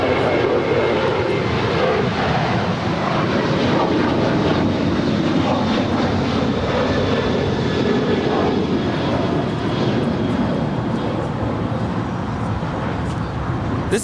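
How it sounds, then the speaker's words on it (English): An Alaska Airlines Boeing 737-800 departs LAX for Portland, its jet engines a loud, continuous roar that holds steady throughout. "This is Alaska 532 departing to Portland on a 737-800"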